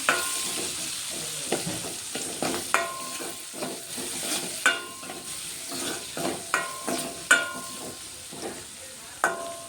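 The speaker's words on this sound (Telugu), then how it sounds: "ఉల్లిగడ్డలు అయితే ఫ్రై అవుతున్నాయి" Chopped onions fry and sizzle in a hot pan for a stuffed brinjal masala curry, with a steady crackling hiss broken by repeated sharp clinks and scrapes as they are stirred, close and fairly loud, with no talking.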